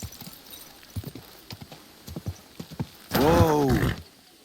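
Hooves clip-clop in an uneven walking rhythm in Kingdom Come: Deliverance II, then a horse lets out a loud, wavering whinny before the steps fade; no voices.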